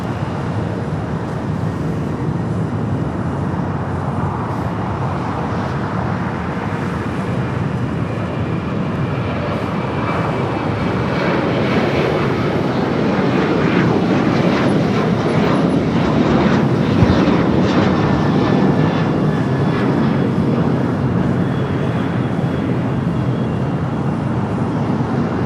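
An airliner departing at LAX: a steady, loud jet roar that swells gradually over about twenty-five seconds, broad and rumbling, with no voices over it.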